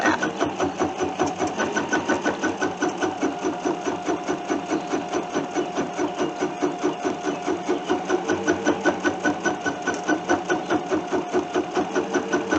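A Bernina sewing machine stitches embroidery through a Monster Snap Hoop, a fast, steady mechanical chatter of needle strokes repeating evenly and close up for the whole stretch.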